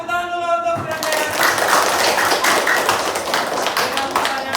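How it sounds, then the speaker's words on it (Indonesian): A classroom of vocational school students claps for a classmate, brisk close hand clapping that starts after a short voice and carries on evenly, with some voices mixed in. "tepuk tangan dulu untuk Sri Handayani"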